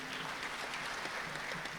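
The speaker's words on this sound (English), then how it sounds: "So please give the police band a round of applause too" Audience applauds a police band at a health-sector achievements event, a brief, continuous patter of clapping at moderate level with no voices on top.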